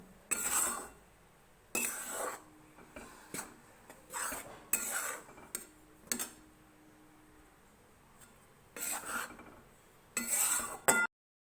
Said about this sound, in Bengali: এইভাবে আটাটাকে নাড়াচাড়া করতে হবে। এভাবে নাড়াচাড়া না করলে